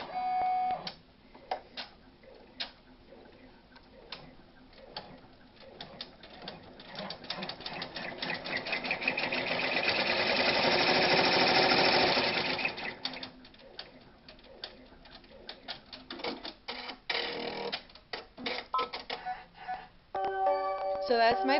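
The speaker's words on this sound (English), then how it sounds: "And now it's going to stitch my placement stitch." An embroidery sewing machine stitches the placement outline for an appliqué beak on a penguin design, a steady rapid needle clatter that builds to a loud sustained run mid-clip, with brief starts and stops around it.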